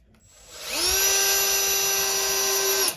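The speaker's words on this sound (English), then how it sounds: "So I'm gonna screw in 5 screws" A Milwaukee cordless drill driving screws at its lowest speed setting winds up to a steady high-pitched whine, holds it for about two seconds, then cuts off abruptly.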